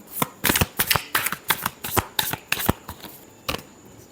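Tarot cards being shuffled by hand, a close, brisk run of crisp riffling bursts in a steady rhythm, heard alone with no talking.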